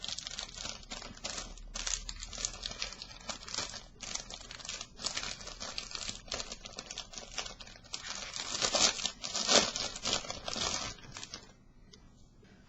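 Copper adhesive tape being handled, with continuous crinkling and crackling bursts that swell louder toward the middle, then fade to near silence at the end; no talking.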